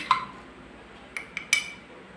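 A spoon clinks against a cup while stirring, a sharp tap at the start and then a few quick light clinks later, close by in an otherwise quiet room.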